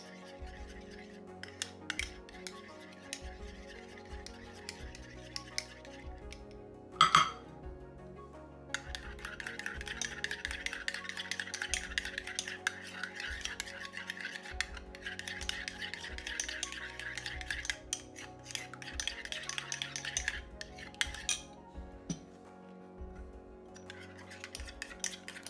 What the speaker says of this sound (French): Faut bien mélanger.